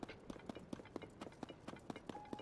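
A horse's hooves clip-clop at a steady walking pace in Zelda: Tears of the Kingdom, about four even beats a second, soft and fairly close, with no talking.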